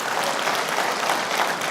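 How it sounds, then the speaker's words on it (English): An audience at the Flight Sim Expo in Saint Paul, Minnesota, claps steadily, a dense and even wash of applause heard from a moderate distance that neither swells nor fades. "Let's give them a round of applause."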